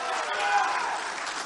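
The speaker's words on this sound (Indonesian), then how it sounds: "Mari kita berikan tepuk tangan untuk seluruh pasangan calon" Audience applause at a public debate for Aceh governor and deputy governor candidates, a steady wash of clapping lasting the whole moment with a voice faintly over it.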